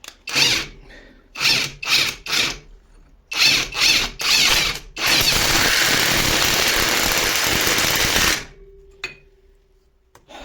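A Grosser GTW cordless impact wrench loosening a large bolt: several short hammering bursts, then one long continuous rattling run that cuts off, followed by a faint whine and a click.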